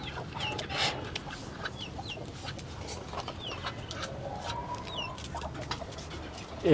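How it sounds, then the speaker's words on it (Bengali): Ducks let out of their pen call in scattered short bursts, mixed with other domestic fowl sounds, at moderate distance over a low background. "চলেন এখন হাঁসগুলা ছাইড়া দিই।"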